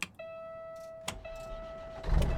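A Z-Mod 650 hp Cat C16 truck engine in American Truck Simulator, heard as a steady idle drone with a clear sustained whine, then a deeper rumble swelling louder near the end.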